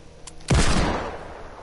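A single hand cannon shot in Fortnite, a sharp loud blast followed by a booming tail that fades over a second, alone without talk.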